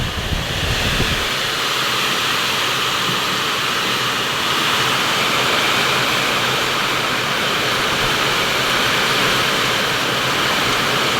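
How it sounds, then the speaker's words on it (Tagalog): Heavy rain and strong wind from Typhoon Ramil roar steadily over a rice field, a dense, unbroken wash of noise with a brief low rumble at the start, loud and close throughout with no voices. "napakalakas po talaga dito ng ulan at hangin"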